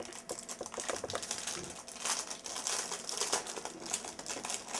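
Plain polyethylene plastic packaging bag crinkling as it is unpacked, a close, busy crackle with dense, irregular rustles that keeps going for about five seconds with no voices.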